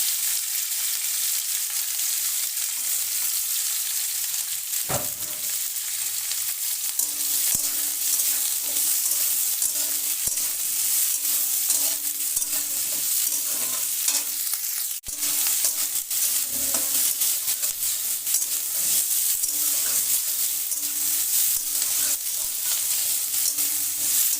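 Capsicum and onion fry in a pan with a loud, continuous hiss of sizzling oil, broken by a few sharp knocks and scrapes of stirring.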